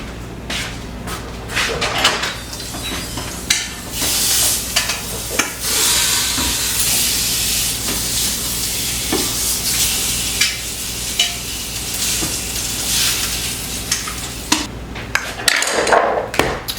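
Chicken sizzles and fries steadily in a pan, with sharp clanks and knocks of utensils and a lid scattered throughout.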